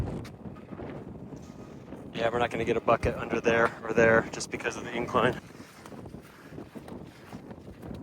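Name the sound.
wind blowing at lakeside campsite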